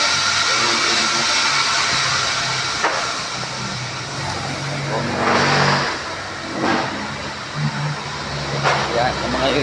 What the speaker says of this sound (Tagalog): yung makina namin. Yan po yung water refilling namin